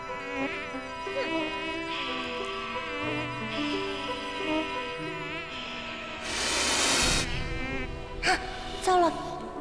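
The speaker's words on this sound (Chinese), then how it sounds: "糟了，蚊子没赶走" A mosquito whines in a buzzing drone under a drama soundtrack with music, a brief gasp and a burst of noise, the thin hum wavering near and far throughout.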